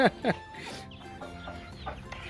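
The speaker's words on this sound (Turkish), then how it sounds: "Bu horoz tehlikeli duruyor." A rooster gives two sharp clucks up close, followed by quieter, scattered clucking and background noise.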